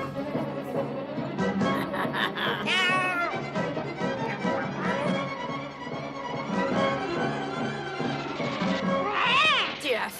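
A cartoon cat meows among busy animated-show sound, the mewing calls rising over music and effects, with a louder wavering cry near the end.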